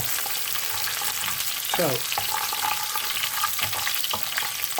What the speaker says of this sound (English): in with the ginger and garlic and give it a stir